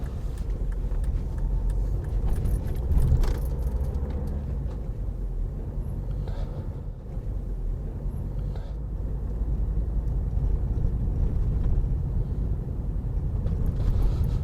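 Car creeping along at about 13 mph through the village of Chartham, a steady low engine and road rumble continuing close and even throughout, with no voices.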